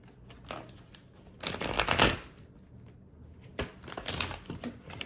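A deck of tarot cards is shuffled in two bursts of riffling and slapping, close by, with quiet handling in between.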